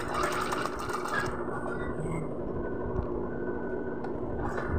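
A sewing machine stitches fabric for a handmade hair tie, running steadily and close up for the whole stretch, with a continuous mechanical whir and no talk over it.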